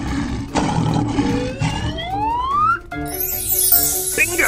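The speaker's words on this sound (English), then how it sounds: "Lion." A lion's roar from a cartoon animal-sound sequence, with rising tonal sweeps over a busy musical background, ending in a bright whooshing swell.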